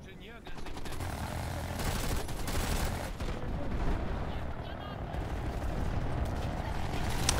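Gunfire in Planetside 2 crackles in busy bursts over a dense battle din while someone talks throughout.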